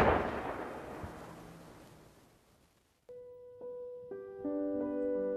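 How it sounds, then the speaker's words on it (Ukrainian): A controlled demolition of wartime munitions found by search teams in an open field: a heavy explosion rumbling and fading over about three seconds, then cut off by unrelated steady musical tones. "над полем пролунав потужний вибух. Це піротехники знищили знайдені пошуковцями боєприпаси."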